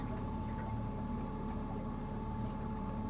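Fishing boat trolling motor running at raised RPM, a steady low hum and drone with a faint tonal whine over water, continuous and fairly quiet with no talk.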